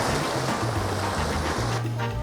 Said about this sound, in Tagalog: Uy, lakas ng alon dito.